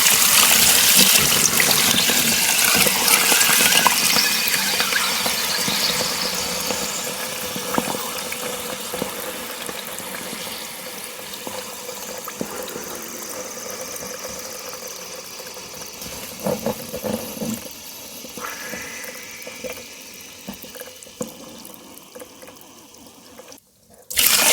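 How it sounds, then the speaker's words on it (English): Water is poured onto clay to soften it for crumbling, a steady splashing, running flow that is loud at first and gradually fades, with a few clicks and handling sounds near the end. "So I'm just going to add enough water."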